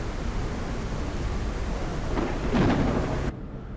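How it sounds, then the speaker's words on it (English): A Subway Sim 2 thunderstorm plays as a steady rush of rain with a low thunder rumble that swells near the end, then cuts off abruptly. "thunder and lightning, very, very frightening"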